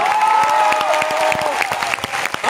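Audience clapping at a stage program in Chandrapur, a dense patter of hands with some cheering, while a sustained tone runs through the first half of the burst.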